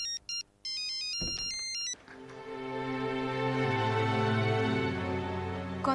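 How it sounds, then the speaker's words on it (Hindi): A mobile phone ringtone plays a bright repeating electronic melody in short patterned bursts, then gives way to a sustained tonal musical swell, with no one speaking. "जरा देखा किसका फोन है?"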